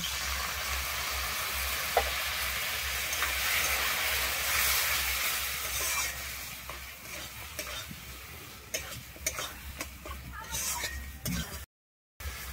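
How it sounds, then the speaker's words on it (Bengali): Spiced masala sizzling and being stirred in a hot pan for potol chingri, a Bengali pointed gourd and prawn curry, as water is added, a steady loud fry hiss with scraping stirs, easing toward the end. "আমি এরপরে এখানে আমি শিল ধুয়ে জল দিয়ে দিচ্ছি।"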